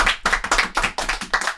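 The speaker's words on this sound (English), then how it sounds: "Let's give him a round of applause." A burst of hand clapping from a small group, sharp and close, in a steady quick rhythm of separate claps with no talk over it.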